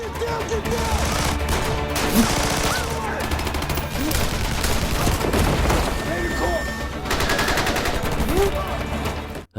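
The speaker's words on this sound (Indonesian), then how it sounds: "Terjadi aksi baku tembak di antara mereka, tapi Connor dan tim terdesak" Rapid bursts of automatic gunfire and single shots crackle back and forth in an action film shootout with robbers, dense and continuous throughout, with booming impacts mixed in.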